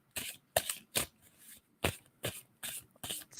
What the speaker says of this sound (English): tell me when to stop shuffling on him